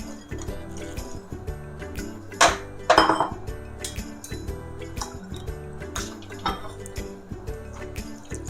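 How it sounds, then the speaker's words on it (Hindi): Milk poured into a cooking pan to start a jaggery summer drink: a soft, continuous liquid trickle with a few clinks and knocks of metal, close to the microphone, with no talking. "पैन में हम सबसे पहले दूध डाल देंगे।"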